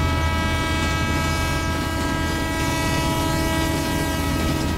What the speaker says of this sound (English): Train is running.